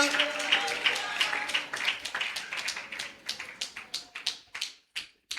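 A church congregation claps hands in praise during a devotional service, starting as a dense patter and thinning into a slowing series of sharp, separate claps that fade out near the end.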